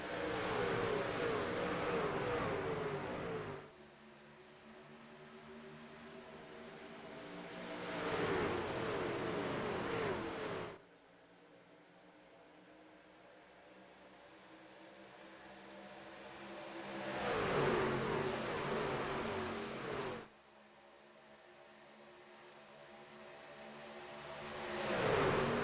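Race truck engines at Talladega in a sim racing game drone in long waves, swelling loudly as the pack passes, then cutting off abruptly and building again, a steady roaring pattern with no voices.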